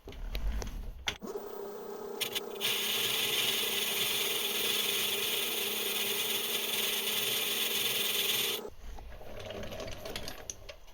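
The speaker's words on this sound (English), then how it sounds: "Just going to face it." A metal lathe makes a facing cut with an aluminium insert, a steady mechanical whir holding for about seven seconds, with quieter machine noise and clunks before and after.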